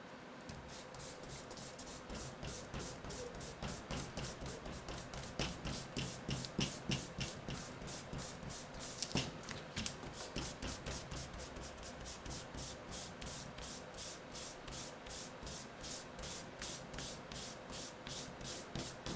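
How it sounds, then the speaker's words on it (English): An eraser rubs back and forth on paper over bubble-letter graffiti drawing, making quick, rhythmic scratchy strokes, close and soft, repeating steadily with a brief busier burst partway through. "time to clean this up with an eraser"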